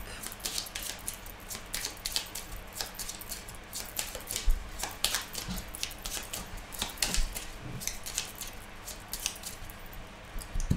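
Petit Lenormand cards being cut and shuffled by hand, giving a quick run of soft papery snaps and riffling flicks, close and steady with no talking over it.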